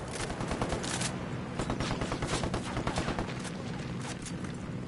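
Sustained rapid automatic gunfire while shooting at an enemy in Ghost Recon, loud and continuous with crackling bursts throughout several seconds.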